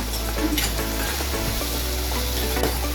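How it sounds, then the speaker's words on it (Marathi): Chopped onion frying in hot oil in a pan for a Maharashtrian bitter gourd curry, a steady close sizzle with brief stirring scrapes and no talk. "हे बघा कांदा आपला छानपैकी असा फ्राय झालेला आहे"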